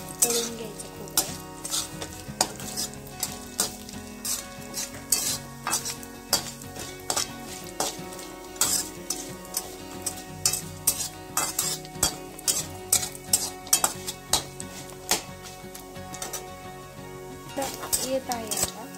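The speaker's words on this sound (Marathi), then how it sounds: "खोबरं तळून घेऊया, छान असं गोल्डन कलर येईपर्यंत तळून घ्यायचं खोबरं" Coconut frying in a pan toward golden brown, with constant clatter of a spatula scraping and knocking metal over a low sizzle, busy and close, with music playing underneath.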